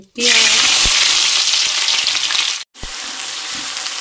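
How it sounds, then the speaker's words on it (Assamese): Onions hitting hot oil in a wok sizzle loudly and close, a sudden harsh hiss that holds steady, cuts out for an instant, then resumes slightly quieter as stirring continues. "পিয়াজখিনি এতিয়া অকমান ৰঙচুৱা হোৱালৈকে ভাজি লম"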